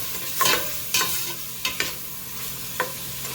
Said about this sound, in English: We're adding our onions to saute